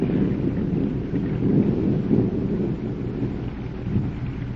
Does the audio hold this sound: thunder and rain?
yes